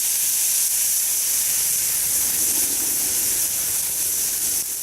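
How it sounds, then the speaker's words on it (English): Whiskey hits a hot pan of cooked onions over a campfire and hisses and steams loudly and continuously, a broad bright sizzle fading slightly toward the end. "Now we're gonna deglaze this pan with some good old whiskey."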